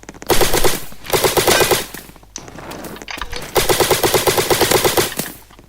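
Airsoft guns in a Roblox battle game fire loud, close full-auto bursts, three rapid rattling strings separated by short gaps.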